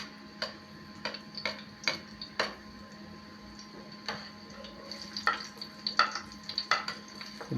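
Garlic frying in a pan while cooking ginataan, heard as sharp scattered ticks and crackles of oil popping over a steady low sizzle, with no voices.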